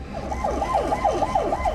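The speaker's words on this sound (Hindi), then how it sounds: "सियोल के इटावन इलाके की सड़कों पर हर तरफ एम्बुलेंस के सायरन गूंज रहे थे" Ambulance sirens wail through the streets of Itaewon in Seoul during a Halloween crowd disaster, a steady rising-and-falling tone cycling repeatedly over traffic rumble, with no voices.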